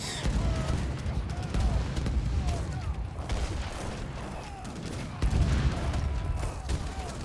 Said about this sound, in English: we have some hand mortars coming in